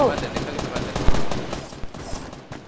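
Video game gunfire from the Fortnite-style final cube explosion event: rapid, uneven bursts of shots and impacts crackle through a busy battle mix, with a player talking over them.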